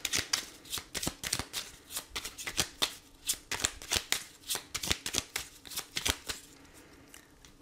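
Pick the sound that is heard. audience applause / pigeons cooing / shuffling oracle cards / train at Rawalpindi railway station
shuffling oracle cards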